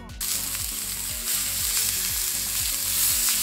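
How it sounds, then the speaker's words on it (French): Chicken steaks sizzle steadily in a hot pan, with a loud, close, continuous hiss of frying and a faint rhythmic stirring underneath. No voices are heard. "mettre mes steaks de volaille à cuire"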